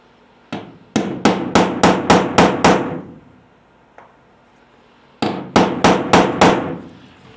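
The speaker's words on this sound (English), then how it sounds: "And I hammer on that pretty hard" Sharp metallic hammer blows on a steel punch during aluminum boat rivet repair, in two bursts: a quick run of about seven strikes, a lone tap, then five more, loud and close with ringing decay.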